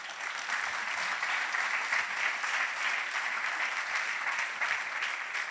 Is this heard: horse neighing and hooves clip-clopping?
no